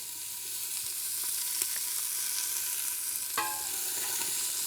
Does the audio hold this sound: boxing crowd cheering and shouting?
no